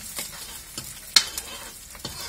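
Green chilies and finely chopped ginger frying in a pan, a soft low sizzle broken by several sharp scrapes and taps of a spoon stirring, one louder clack near the middle, close and fairly quiet.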